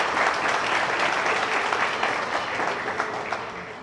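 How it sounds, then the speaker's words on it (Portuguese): An audience at a celebration gives sustained, dense applause. The clapping stays loud and steady throughout and fades slightly at the end. "Recebam de todos novamente aí a salva de palmas."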